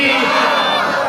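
A large crowd at a religious gathering shouting back in unison in response to a chanted slogan, a loud, massed roar of voices filling the whole moment.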